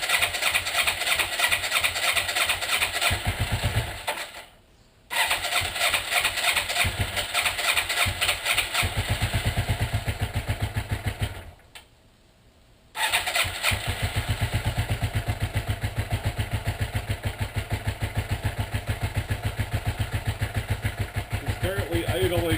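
A 1984 Yamaha Maxim 400 motorcycle engine cranks and catches on choke, running with a fast rattling idle, cutting out twice briefly before restarting and idling on.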